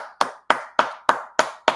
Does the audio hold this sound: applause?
yes